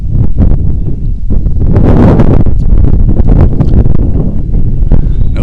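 A strong wind gusts hard across an outdoor college baseball field, battering the microphone with a constant loud, rumbling roar throughout.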